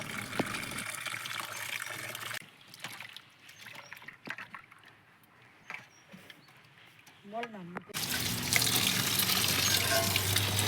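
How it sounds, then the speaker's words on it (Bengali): Fish pieces rubbed with salt and turmeric are rinsed under running water in a home kitchen, with a steady hiss of flowing water that drops to quieter splashing and trickling in the middle before the loud gushing returns. "এইবার ধুয়ে নিচ্ছে, এটা এবার ধুচ্ছে।"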